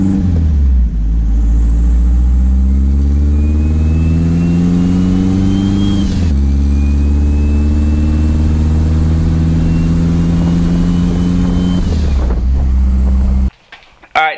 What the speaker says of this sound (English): Turbo's still spinning